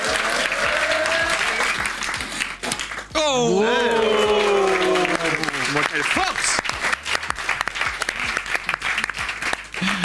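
A small group applauds someone who has sawed through a branch, with steady clapping throughout and talking and exclamations over it.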